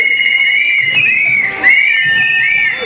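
A whistle is blown for the send-off of a crocheted locomotive at a public event in the Manufaktura complex. It gives a loud, sustained, warbling tone for about three seconds over a faint crowd murmur.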